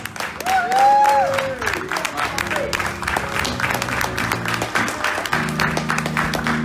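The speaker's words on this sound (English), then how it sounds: "Let's give a round of applause." Audience applause at a New York fundraiser for the AAC party, sharp dense claps under cheering voices and a rising whoop, with a loud tonal hum entering toward the end.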